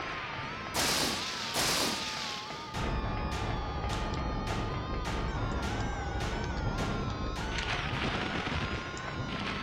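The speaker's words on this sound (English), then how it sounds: "I'll start by just trying to whittle away a little bit of its health using the handgun" Rapid handgun shots in the Silent Hill video game crack out loudly, a dozen or so evenly spaced reports over a constant droning background, with a couple of louder blasts first.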